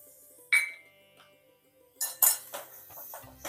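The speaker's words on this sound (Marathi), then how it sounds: "थोडा आपण खवा भाजून घेऊया." A metal utensil stirs khoa roasting in a kadhai, giving a few sharp clinks and light scrapes against the pan amid quiet stretches, with no talking.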